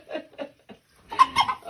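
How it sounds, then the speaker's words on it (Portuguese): A farmyard hen clucks in a few short bursts at first, then louder, busier clucking close by, with no talk over it. "O barulho da galinha."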